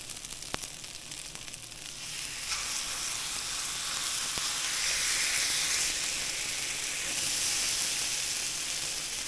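French toast slices frying in a hot pan give a steady, bright sizzle that swells after a couple of seconds and stays loud and even, with a few faint clicks of utensils and no talking.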